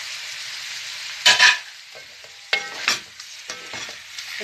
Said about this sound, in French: Et là, je vais mettre les poireaux, bien coupés, lavés. Voilà, les petits poireaux. Et je vais mettre les poivrons.